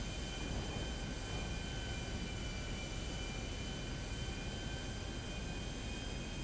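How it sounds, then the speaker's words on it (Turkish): A jet airliner coming in to land in GTA 5 Online, with a steady, loud engine roar and broad rumble that holds evenly throughout, no voices over it. "Evet şimdi ineceğiz abi iniş takımlarını açalım."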